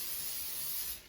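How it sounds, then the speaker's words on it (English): A can of vegetable oil cooking spray hisses steadily onto bone-in, skin-on chicken pieces, one continuous close spray that fades at the end. "Spray them with a little vegetable spray,"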